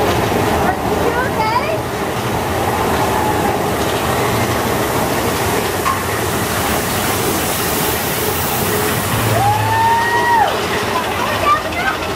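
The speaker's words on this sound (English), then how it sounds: "we're getting ready to go on the train. Big Thunder Mountain." Big Thunder Mountain theme park train ride rumbles and clatters continuously, a loud steady roar with rushing water-like noise and a brief squealing tone near the end.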